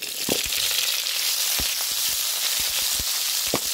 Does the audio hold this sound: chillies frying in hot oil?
yes